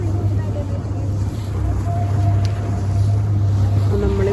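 A boat cruises through the water at night in Dubai, its engine giving a steady low drone with wind rushing across the microphone, and voices are heard faintly over the noise.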